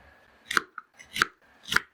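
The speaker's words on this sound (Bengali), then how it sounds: "একটা ফুলকপির টুকরো করে নিচ্ছি" A cauliflower is cut into pieces in a home kitchen, giving three crisp, close cutting snaps about half a second apart, with a faint tick between the first two and no talking.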